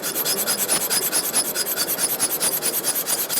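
A normal stainless steel fork is pressed hard and scraped back and forth across a BLANCO SILGRANIT granite composite kitchen sink, giving a loud, close, rhythmic rasping that repeats in quick strokes throughout.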